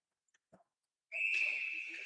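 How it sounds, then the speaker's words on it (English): A referee's whistle blows for icing at a high school hockey game between Beaver Dam and Fond du Lac, a single sustained shrill blast after a few faint rink noises. "Icing and the whistle blows"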